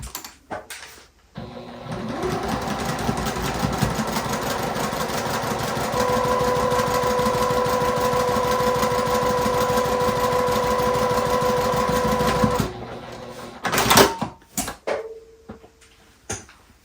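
A sewing machine stitches quilting cotton for a patchwork cat's headpiece, running as a steady close mechanical whir for about eleven seconds, then stopping, followed by clicks and fabric handling.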